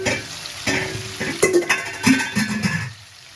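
Shrimp frying in hot oil in a pan over a raised gas flame at home, a steady close sizzle with a few louder spits and stirring knocks.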